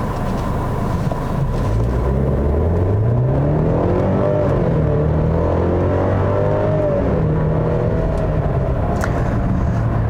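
A 2020 Mercedes GLC300 with its upgraded base engine accelerating on the road, a steady interior drone whose pitch climbs through gears, loud and close with no talking.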